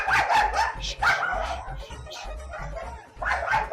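Several dogs bark repeatedly and loudly close by, overlapping yaps in a busy, continuous chorus.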